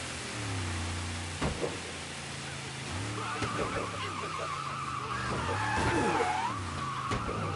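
A car sliding and skidding in the video game Mafia, tyre squeal wavering over a steady engine drone, moderately loud, with brief thuds and shifting engine tones.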